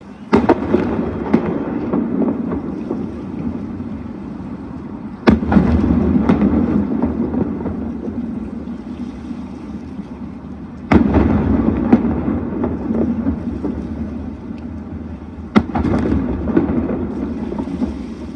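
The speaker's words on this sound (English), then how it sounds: "They were greeted by pomp and ceremony, including a 21-gun salute for each ship." Cannon blasts of a 21-gun salute greeting Russian navy ships in Havana: four sharp booms spaced several seconds apart, each rolling into a long rumbling echo, all heard without talk.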